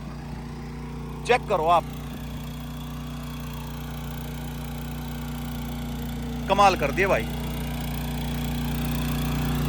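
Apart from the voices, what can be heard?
tractor engine running a rotavator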